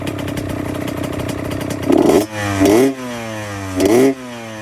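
A 2002 Honda CR80 two-stroke dirt bike, freshly rebuilt and not yet warmed up, idles raspily before three sharp throttle blips rev it up and drop back, loud and close with no talking.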